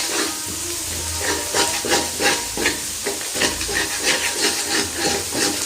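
Egg frying in a pan for Jaffna-style kothu roti, a steady loud sizzle with rhythmic scraping and stirring strokes throughout, no voices.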